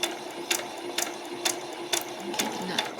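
A sewing machine stitches a skirt, running steadily with a mechanical whir and regular clacks about every half second, near and alone.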